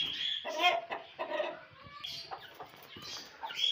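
A rooster and hens cluck nearby in short, scattered calls with brief pauses, fairly faint and close, with no talking over them.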